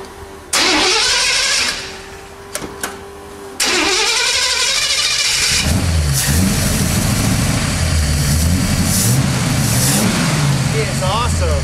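A car engine cranks and starts with a loud bark, then settles into a rough idle with some revs. It runs on steadily and loudly, with people talking over it.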